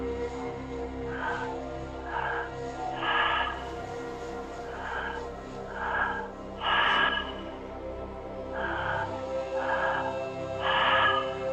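Deep, deliberate breaths are drawn and released in a rhythmic cycle during a guided breathwork exercise. The breaths are close and audible, rising in repeated bursts roughly every second or two over a low steady background hum, with no talk.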